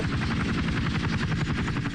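A helicopter in a dubbed action-film scene, a steady loud rotor thump with a rapid pulsing beat that fills the whole stretch without a break.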